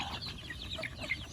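Chickens clucking at feeding time on a farm where ducks and geese eat alongside them, a soft continuous murmur of clucks and chatter under steady outdoor background noise, no talking.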